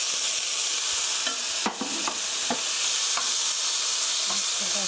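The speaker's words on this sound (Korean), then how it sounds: "그래서 썰 프라이 2분, 2분 정도 볶아주세요." Garlic, onion and paprika stir-fried with chili flakes for spicy seasoned chicken, giving a steady close sizzle broken by several sharp spatula scrapes and stirring clatters, with no talking.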